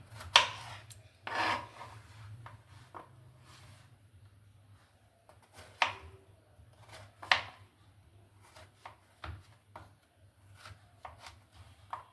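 Bottle gourd being cut into small pieces on a board, with irregular crisp knife chops and scraping strokes close by, quiet between cuts, no talk.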